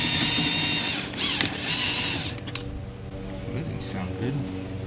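A power drill whines loudly while removing rivets, running steadily for about two seconds before winding down, with mechanical rattling and someone talking afterward.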